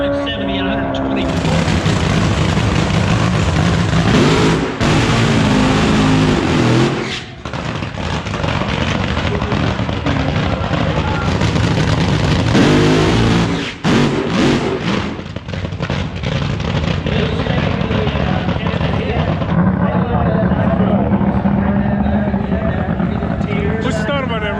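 Cars drag racing down a racetrack at a street car event: loud, sustained engine roar with rising revs and a couple of brief dips between runs, close and dominating, with a voice talking over it.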